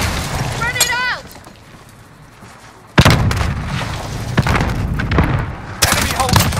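Grenade explosion in a multiplayer shooter video game: a sudden loud boom hits midway, then more blasts and gunfire follow amid ongoing game sound, with voices calling out over the action.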